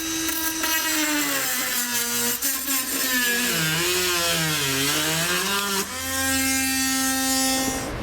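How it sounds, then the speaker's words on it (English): A Dremel rotary tool cuts a tab off a plastic bumper cover, a loud, close, high whine that dips in pitch as it bites into the plastic and climbs again as it frees up, with no talking. "Now to cut these, I'm going to use a Dremel tool."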